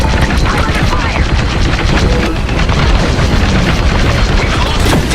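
Star Wars Squadrons space combat blasts out rapid laser-style gunfire and booming explosions in a dense, loud, continuous barrage, with voices faintly mixed in.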